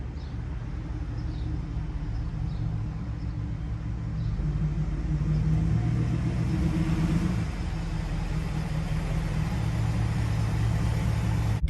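A Chevrolet Corvette ZR1 idling and creeping, a steady low engine rumble heard nearby with a slight rise in the middle and no talk.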